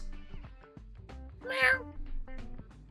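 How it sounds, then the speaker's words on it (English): A cat meows once, clear and fairly close, in the middle of a stretch of casual talk that continues before and after it. "Cat."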